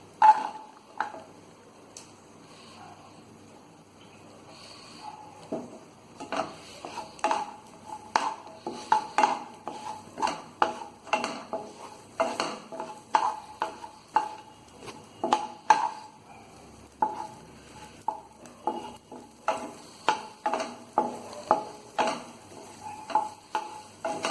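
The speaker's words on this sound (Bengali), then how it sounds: "মাখন গরম হয়ে গেছে, এবার আমি রসুন আর পেঁয়াজটা ভাজবো।" Garlic and onion frying in hot butter for homemade tomato sauce, with a spoon stirring and tapping the pan in a steady run of sharp clicks over a soft sizzle, close by, no voices.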